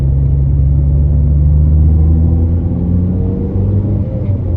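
A Ford Fiesta ST 150 drives and accelerates, its engine giving a loud, close, steady rumble from inside the car with a rising tone as it pulls.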